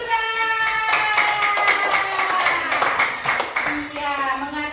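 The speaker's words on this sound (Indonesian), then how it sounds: "tepuk tangan untuk Vira" Clapping from a class group for a student, steady hand claps mixed with children's voices and a teacher speaking over them, close and fairly loud.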